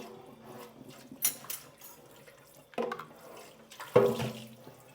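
Tap water runs as an air fryer basket is rinsed in a sink, a soft continuous splashing with a few louder bursts as the flow hits the metal.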